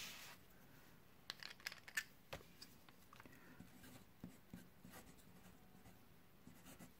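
A fountain pen writes on Rhodia paper in a quiet room, soft close scratching strokes with occasional small taps and clicks, faint and intermittent.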